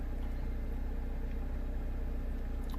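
A 2007 Toyota Corolla engine idling slightly high during a coolant change, heard as a steady low rumble with an even pulsing throb, close and continuous.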